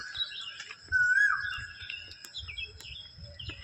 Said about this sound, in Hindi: कोयल की आवाज़